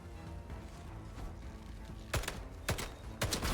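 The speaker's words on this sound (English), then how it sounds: "How many times do I gotta shoot this person in the head?" Gunfire in the video game Atomfall: three sharp, loud shots spaced about half a second to a second apart, heard over a busy, constant bed of in-game background noise.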